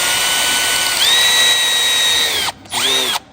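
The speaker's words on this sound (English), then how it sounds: "So here we go now with our our drill bit and our drill." A power drill whines steadily as it bores a rivet hole through a molded carbon fiber front lip spoiler on a 2021+ Tesla Model S, close and loud, pitch dropping as it stops, then a second brief burst.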